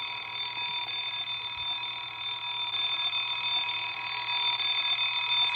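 Timex alarm clock on its bell alarm setting, sounding a steady, continuous electronic bell-like ringing that stays loud and unbroken throughout.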